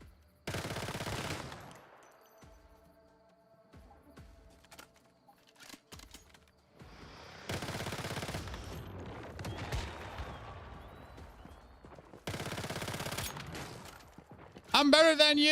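A submachine gun fires in the online survival shooter Once Human: several loud, dense bursts of rapid shots, each lasting about a second, separated by quieter stretches of ambient game sound.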